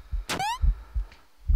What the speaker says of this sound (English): I don't like this heartbeat noise.